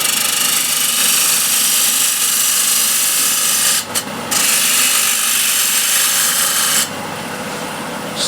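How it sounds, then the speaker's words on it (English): A wood lathe spins steadily while a 16mm bowl gouge hollows out a turned piece, giving a loud, continuous cutting hiss with a brief dip midway and a slightly quieter tone near the end. "And now we can hollow this out."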